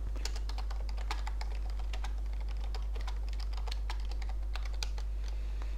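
Steady typing on a computer keyboard while notes are taken, a fast, continuous patter of light key clicks over a constant low hum, with no talking.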